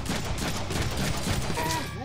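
Gunfire in a Deadpool action video game, a dense flurry of shots rattling for about two seconds at moderate volume.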